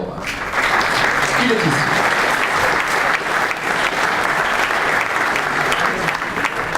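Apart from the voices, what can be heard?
audience applause at medal ceremony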